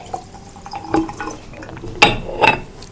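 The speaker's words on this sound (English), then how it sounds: "I'm going to simply pour this over the carrots that I already have" Vinegar is poured over carrots in a jar, making splashing, trickling liquid sounds with a few sharper glassy drips and bursts, close and moderately loud.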